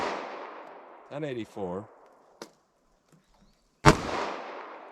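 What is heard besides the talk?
40 S&W pistol gunshots, Speer Gold Dot and Federal HST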